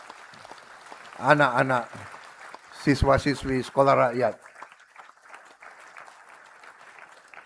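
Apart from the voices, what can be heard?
audience applause for schoolchildren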